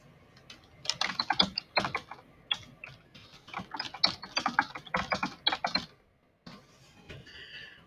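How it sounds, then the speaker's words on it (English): Typing on a computer keyboard while entering text into a website page editor: quick irregular bursts of close key clicks, a short pause, then a few more keystrokes. "This is where you can start typing your content."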